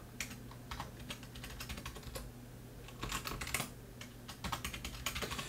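Password being typed on a computer keyboard during an account sign-up: quiet, irregular bursts of light key clicks close by, with short pauses between runs and no voices.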